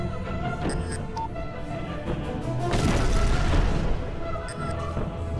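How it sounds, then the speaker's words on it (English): Explosion in Hitman: Blood Money, a deep rumbling boom swelling midway through amid game ambience and chimes, moderately loud and near. "An explosion!"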